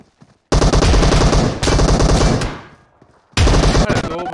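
Rapid bursts of shotgun fire from an online multiplayer video game, two long loud volleys followed by a pause and a third burst, close and dominant with no speech.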